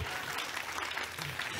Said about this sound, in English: Oh, look at the way you are clapping.